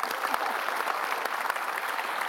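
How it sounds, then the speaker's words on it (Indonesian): A television studio audience breaks into steady, dense applause for a talk-show guest, a continuous close wash of clapping with no talk over it. "Tepuk tangan dulu dong buat Pak Jamil."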